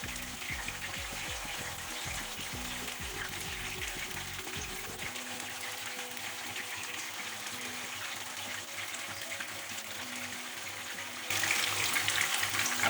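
Kofta balls for aloo curry frying in hot oil, giving a continuous soft bubbling hiss at a moderate distance that grows noticeably louder near the end.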